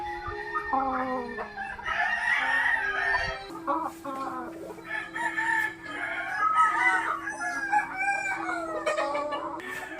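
Gamefowl roosters in a coop crow in long, overlapping calls, several birds in turn, mixed with some clucking; the sound is loud and close and fills the whole stretch.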